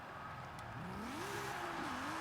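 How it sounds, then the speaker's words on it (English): Toyota Celica SS-I in Forza Horizon 5 with a swapped 2JZ engine, revving and accelerating with a rising, wavering engine pitch, faint and somewhat distant under a steady hiss. "I did end up swapping the engine, which you can probably hear. It's now got a 2JZ in it."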